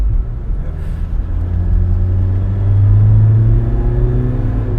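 Tata Hexa diesel turbo engine accelerating, a loud steady low rumble heard from inside the vehicle, its pitch climbing gradually as the revs build, with no talk over it.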